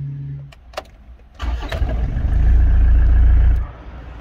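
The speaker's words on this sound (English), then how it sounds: "That engine sounds rather nice and starts on the button" A car engine fires up on a push-button start after a brief starter whirr, catching into a loud, steady low rumble that holds close by before dropping away; the car has an L-series engine with a boost problem.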